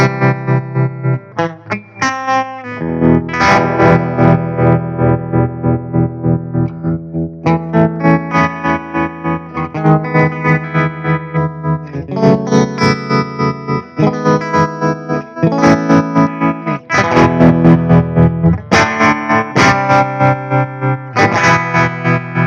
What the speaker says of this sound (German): Normales, gutes Standard-Tremolo.